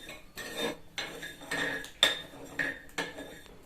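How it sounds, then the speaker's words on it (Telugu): A steel spoon mixes coriander seeds and cumin seeds in a pan. It scrapes and clinks in regular strokes, close and fairly soft, with a few brighter taps against the metal. "ఒక స్పూన్ ధనియాలు వేయాలి ఇప్పుడు రెండింటిని బాగా మిక్స్ చేయాలి"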